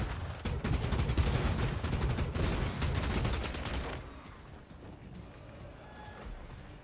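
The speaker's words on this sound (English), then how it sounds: "And another guy shooting it." Rapid gunfire in the video game Bloodhunt, a dense burst of overlapping shots that fills the first four seconds loudly, then drops to quieter, sparser sounds.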